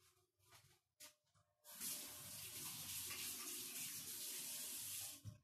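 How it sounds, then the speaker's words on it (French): Kitchen tap runs while someone washes their hands, starting after a couple of soft knocks and then splashing in a steady, close rush for a few seconds before cutting off. "Je me lave les mains."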